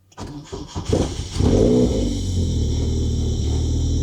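A car with a slightly weak battery cranks briefly, catches and starts, then settles into a loud, steady idle rumble close by, with no one talking.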